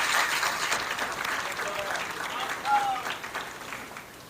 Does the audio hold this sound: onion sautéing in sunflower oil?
no